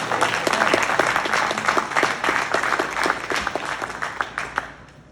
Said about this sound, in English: Another round of applause here for Coach Kenny Dillingham and quarterback M